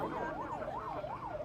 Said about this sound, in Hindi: ये फायर ब्रिगेड निकल रही, कृपया उसको रास्ता देने का कष्ट करें